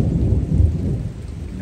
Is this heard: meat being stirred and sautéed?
no